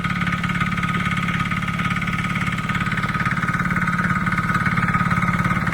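A tractor engine runs steadily in a flooded rice field during paddy sowing in rural Konkan. The engine is close and loud, a continuous, even throb that does not change pitch.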